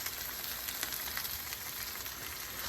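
Green chillies sautéing in a pan for chilli thokku give a steady, dense sizzle that fills the short stretch evenly, close and fairly loud, with no talk.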